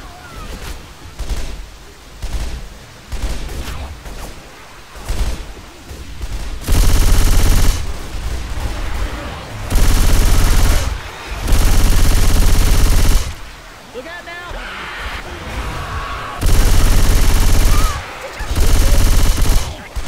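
Bursts of loud automatic gunfire from a zombie-shooting video game, Hard Rain, come in repeated heavy volleys separated by short lulls, with a voice speaking in between.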